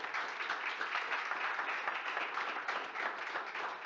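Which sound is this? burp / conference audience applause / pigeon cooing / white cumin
conference audience applause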